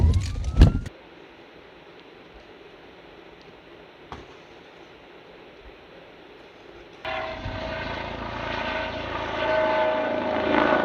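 A police helicopter flies overhead during a car chase, giving a steady, droning rotor and engine wash that grows louder and more tonal partway through, with a brief sharp noise near the start.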